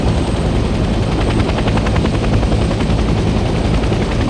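Helicopter in the Vietnam-era video game Hell Let Loose, its rotor chop a loud, constant, dense roar filling the whole stretch with a steady rhythmic beat and no speech.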